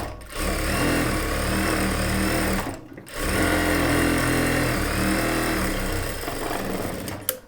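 Lining is stitched onto a churidar top on a sewing machine, a loud, close, steady motor whir in two long runs with a brief stop around the three-second mark and a quick halt at the end.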